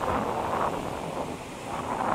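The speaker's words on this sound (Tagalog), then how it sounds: "Huwag masyado kayo malakas alon." Strong ocean waves on a beach at sunrise, a continuous loud rush of surf mixed with heavy wind buffeting the microphone, with no voices.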